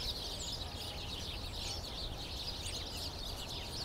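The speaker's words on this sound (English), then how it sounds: "it's nice to just hear birds chirping" Birds chirp steadily around a pond in Central Park on a summer afternoon, a continuous bright twittering bed at moderate distance with no talk over it.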